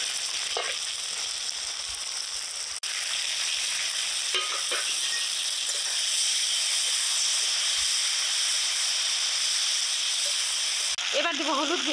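Onion-garlic paste, chopped tomato and green chili hit a hot wok with lightly fried vegetables, setting off a loud, steady hiss and sizzle that carries on throughout with faint stirring.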